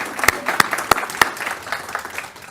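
Light applause at a school board of education meeting, a few distinct loud claps standing out over a thin spread of clapping from a small audience, with some speech mixed in.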